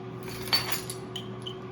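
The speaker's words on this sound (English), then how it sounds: "And stir that all together." A spoon stirs a paprika and onion powder sauce in a bowl, giving a brief clink against the side and a soft scrape, faint and close in an otherwise quiet room.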